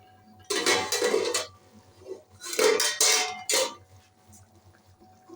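A spoon mixing cooked moong dal in a metal pot, making two clear bursts of clinking and scraping against the pot, separated by a short pause, fairly close and loud, with no talking.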